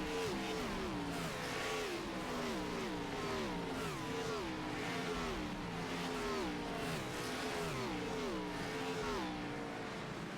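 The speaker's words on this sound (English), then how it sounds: "we went quiet to let you guys hear the roars of the race cars" Race cars roar around virtual Martinsville in the iRacing sim, a dense pack of engines rising and falling in repeated waves of revving as they pass, loud and continuous with no talk.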